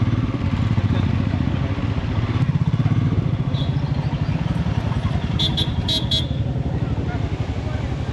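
Busy road traffic heard during a motorcycle trip through Coorg, a steady engine rumble and road noise throughout, with a few short horn toots near the end.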